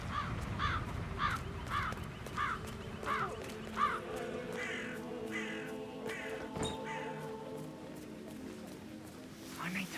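Crows cawing in the Hitman 3 video game, a run of repeated harsh caws in a steady rhythm over the first seconds, fading into background ambience with a voice talking underneath.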